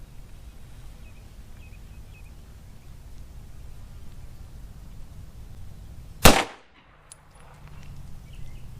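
A single sharp, loud 9mm pistol shot from a CZ P-09 with a 5-inch barrel, firing Federal HST or Speer Gold Dot at an outdoor range, stands out after quiet background.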